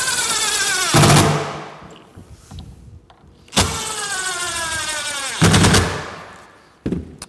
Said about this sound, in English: take our number 10 screws here and our driver.